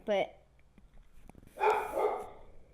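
A dog barks sharply once near the start, then after a quiet gap a louder, rougher burst of barking follows, close by and alone without talk.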